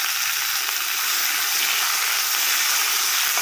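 Spices frying in a pan for a pachadi, a steady, loud, bright sizzle with crackling spatter that holds evenly throughout, with no talking.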